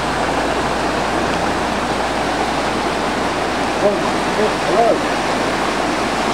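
Floodwater rushes through Bewdley Lower Park in a dense, steady roar like a weir or waterfall, close and unbroken, with a brief bit of voice partway through.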